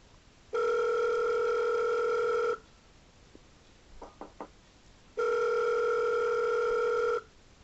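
Two long, steady telephone tones, each about two seconds, sound in the horror video game There's Nobody, with a few faint clicks in the quiet gap between them.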